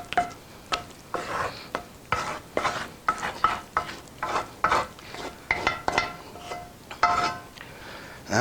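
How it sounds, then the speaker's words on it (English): A utensil scrapes spinach artichoke dip out of a big, heavy pan in repeated short strokes, each a gritty rasp with a dull knock, arriving in an uneven rhythm close up and heard alone. "We're just gonna scrape it off in there."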